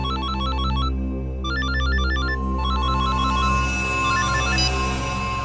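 A phone ringtone plays a repeating electronic chiming pattern in short bursts with brief gaps, loud and close over a steady low background drone.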